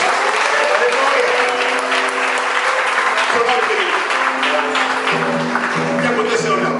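Church congregation applauding the Lord, loud continuous clapping from many hands with voices and a sustained tone running beneath it.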